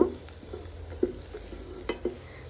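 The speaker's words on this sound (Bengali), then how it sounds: "এখন আমি একটু গরম মশলা দিয়ে পেঁয়াজটা ভালোভাবে ভেজে নিব।" Onion with garam masala fries for beef biryani, a spoon scraping and stirring the pan in a few sharp clinks and scrapes over a soft sizzle.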